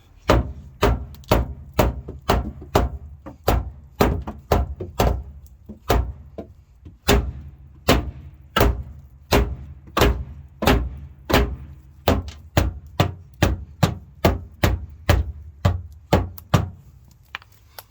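Steady hammering on a car fender as it is beaten straight: about thirty sharp metallic blows in a fairly even rhythm, close and loud, with no talking.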